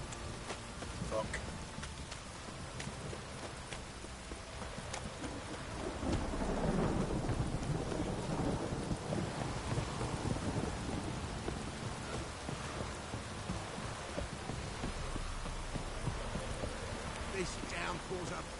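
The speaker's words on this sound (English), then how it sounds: "If it don't stop raining, my arse will rot off." Steady heavy rain pours throughout The Witcher 3 while deep rolls of thunder swell and rumble, loudest in the middle stretch, with no voices.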